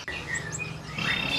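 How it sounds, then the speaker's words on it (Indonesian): A bright yellow canary chirps in quick high tweets over a steady hum of background noise, with no one talking. "Ada burung kenari apa mas nih, warna kuning cerah ya?"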